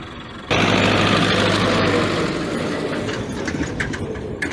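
A tractor engine runs steadily in a harvested field where bales are being hauled, starting abruptly and holding a loud, continuous low rumble with a faint steady hum underneath for several seconds.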